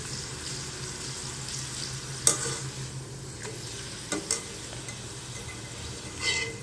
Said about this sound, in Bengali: ভাজা হয়ে গিয়েছে আমি তেলে থেকে তুলে নিব এখন